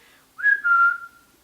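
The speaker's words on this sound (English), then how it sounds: "can you whistle?" A single clear whistled note, starting bright, dipping slightly and holding steady for about a second before fading, close by.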